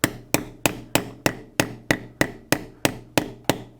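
A hammer strikes a metal alphabet letter stamp, landing about a dozen sharp, evenly spaced blows at close range with no talking.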